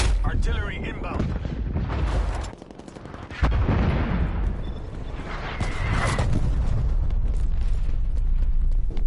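Incoming artillery strikes in Call of Duty Cold War, a continuous roar of heavy explosions and rumbling impacts with a brief lull midway, loud and dense, mixed with voices.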